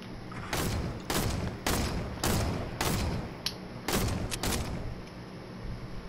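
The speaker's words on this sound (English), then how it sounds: "they're shooting people right next to him" Gunfire in the Fortnite video game, with about eight loud, sharp shots at roughly half-second to one-second intervals over a steady background hum, no talk.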